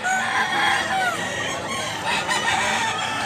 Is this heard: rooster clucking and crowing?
yes